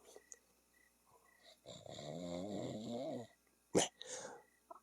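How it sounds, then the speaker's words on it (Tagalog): A person snoring, one long, rattling inhaled snore in the middle, followed by a sharp snort, with quiet breathing around it and no talking. "Agur-urukan."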